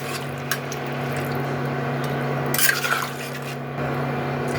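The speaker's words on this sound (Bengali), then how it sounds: "আমি 1 ঘটি জল দিয়ে দিলাম" Water is poured from a small vessel into a cooking pot holding rice and half-boiled potatoes for a fish-head muri ghonto. A steady, close liquid rush plays over a low hum, with a brief splashy swell near the middle. No talking.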